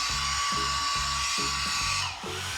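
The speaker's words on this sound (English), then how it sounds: "Grab your hairdryer and heat the eraser from the top down." A hairdryer blows steadily at close range while it heats a dbrand eraser skin. The loud, even airflow whine is broken by a regular, repeating low stutter.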